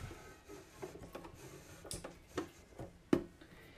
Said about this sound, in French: une manivelle qui me permet de faire descendre mon aiguille